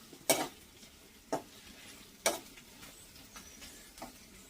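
Ivy gourd and coconut fry in a pan over high heat with a soft sizzle, while a utensil stirs them in occasional scraping clinks at irregular intervals.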